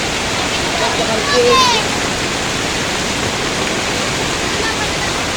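Floodwater rushing during Typhoon Kristine forms a steady, loud broadband roar that runs the whole time, with a brief tonal sound rising over it partway through.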